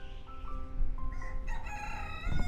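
A rooster crows loudly and close by, a long rising and falling call over a steady low rumble of background noise.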